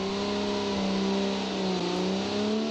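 A custom-built compact car with a front engine, rear-wheel drive and a 4-speed manual revs steadily and loudly in the BeamNG driving game, its engine tone holding then dipping slightly.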